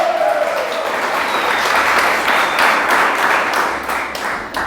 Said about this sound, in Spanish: A ver, un aplauso, Robledo